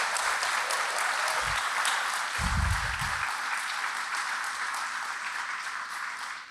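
Steady audience applause at a tenth-anniversary gala, a broad even patter of many hands that holds at moderate loudness and gradually tapers toward the end, with a couple of low thumps early on.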